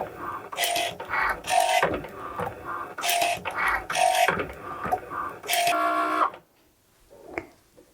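A Cricut cutting machine runs a foil transfer tool over kraftboard, giving bursts of whirring, buzzing motor movement in repeated passes, close and fairly loud, then stopping near the end with only faint handling sounds after.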